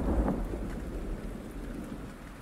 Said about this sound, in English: I'm getting scared by thunder.